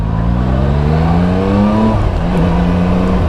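A motorcycle engine braking on a test ride, a loud steady drone whose pitch slides down as the revs fall off, close up over rushing wind, with no voices.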